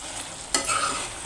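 Chicken frying in oil after its water has cooked off, with a quick stir and scrape against the pan followed by a steady, close sizzle.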